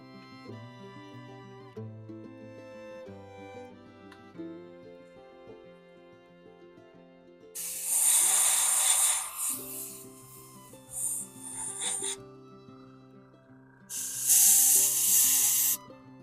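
Paint sprays from a can onto a wolverine rug in two loud, hissing bursts of a few seconds each, close by, over a quieter background of music.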